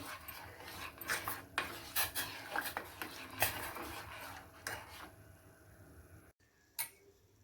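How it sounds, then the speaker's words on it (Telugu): Soaked sorghum flour being stirred in a pot: repeated scraping and knocking of a spoon against the metal in an irregular rhythm, fairly close, with a brief quiet gap near the end and one last clink. "ఇది కలుపుతూ ఉండాలి లేకపోతే కింద అడుగంటుకుంటుంది"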